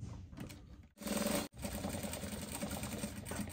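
A sewing machine runs in steady bursts while stitching a folded hem on a cowl bubu garment, with a brief pause and restart, close and clear with no talking.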